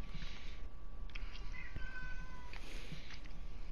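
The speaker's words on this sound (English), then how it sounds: "Your cat is yelling at you" A house cat gives a few drawn-out, yowling meows at moderate distance over steady background hum, with no talking.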